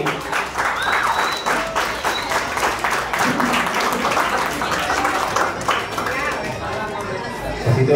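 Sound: audience applause at graduation ceremony

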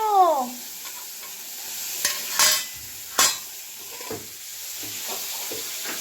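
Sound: cumin and dried chili tempering sizzling in hot oil

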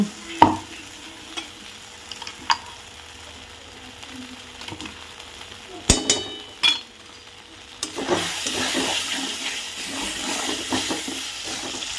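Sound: taro paste being stirred and fried in oil

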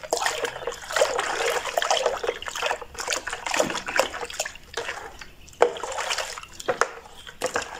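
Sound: pouring water into degreaser cleaner mix

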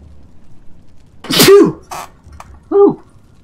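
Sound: sneeze

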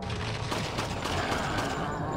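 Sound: gunshots in a video game

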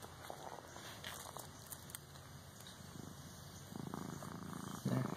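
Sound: cat purring

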